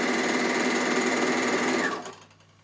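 A Bernina L450 overlocker stitches a rolled edge on a scarf. Its loud, steady, fast mechanical whir runs close and continuous, then slows and fades to quiet near the end.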